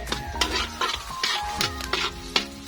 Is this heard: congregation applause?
no